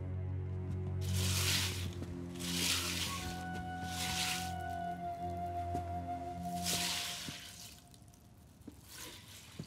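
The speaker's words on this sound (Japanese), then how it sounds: "ややこしいタイミングで小豆洗うな。" Azuki beans being washed, a wet rhythmic sloshing and squishing in repeated bursts with dripping water, set against steady low tonal music and effects, fairly close and moderately loud.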